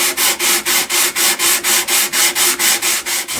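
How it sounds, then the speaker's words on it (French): A wooden earring display piece is sanded by hand in steady back-and-forth strokes, about a dozen even, rhythmic rasping passes heard up close with no voices. "Maintenant, je peux poncer l'ensemble."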